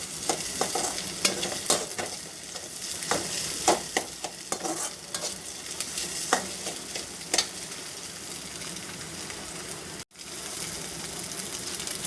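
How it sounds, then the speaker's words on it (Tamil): Beaten egg being stirred and fried in a kadai: a steady close sizzle with repeated scraping stir strokes in the first half, settling into continuous frying hiss, no talking. "முட்டையை இதோ இந்த மாதிரி நல்லா கிளறி எடுத்துக்கோங்க"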